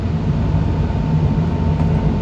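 Kintetsu limited express train crossing the Kumozu River, a steady loud rumble of wheels and carriage noise heard from inside, continuous throughout with no talk.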